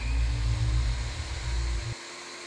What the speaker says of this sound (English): now we're gonna lower our blade all the way and cut our piece of plexiglass